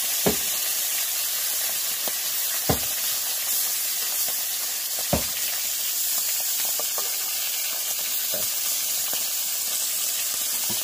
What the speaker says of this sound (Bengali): ভাজা হোক আস্তে আস্তে